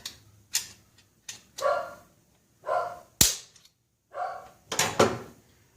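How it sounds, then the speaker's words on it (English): A dog gives a series of sharp, separate barks spaced across a few seconds, loud and close in a quiet shop. "My dog."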